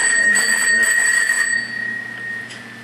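An early American bell rings with a steady, bright sustained tone and a few shimmering strikes near the start, close and clear, decaying gradually toward the end.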